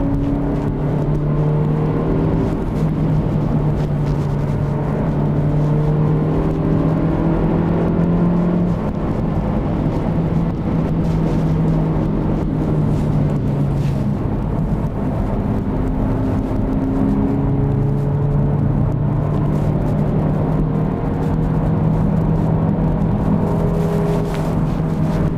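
A 2022 Honda Civic Hatchback Turbo with a six-speed manual is driven hard along a winding road, its engine drone and tire and road roar holding steady and loud throughout, the pitch shifting up and down with the throttle.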